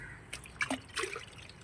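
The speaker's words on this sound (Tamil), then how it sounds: "இப்போ நம்ம வெண்டை செடிக்கு தான் ஊற்றுறோம் ஃபஸ்ட்டு" Liquid compost is poured from a can onto an okra plant in a terrace container garden. A few short, close splashes and drips land in quick succession, with quiet background in between.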